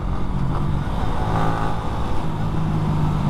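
A motorcycle engine drones steadily at close range while riding, a low rumbling hum with a slight rise and fall in pitch.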